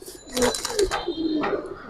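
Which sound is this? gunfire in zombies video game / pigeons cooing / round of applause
pigeons cooing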